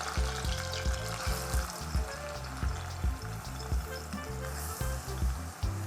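Raw mango slices hitting a hot pan give a soft, continuous sizzle with rhythmic low scraping and tapping, moderately close and fairly quiet.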